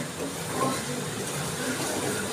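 Rinse water from a spice bowl is poured into frying masala for an okra and yogurt curry, giving a loud, steady, unbroken hiss with no pauses.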